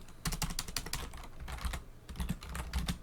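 Rapid typing on a computer keyboard, a steady clatter of key presses in uneven bursts with a brief pause midway, close and fairly quiet, no voices.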